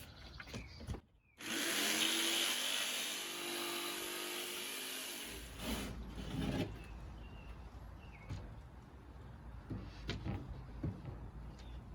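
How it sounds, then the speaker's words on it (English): Power saw cutting through a 2x4 wood board, one loud sustained cut of about four seconds with a bright rasping whine, followed by quieter handling knocks and thuds on the wood. "I'm going to want to cut this 2 foot by 4 foot piece into the cross members"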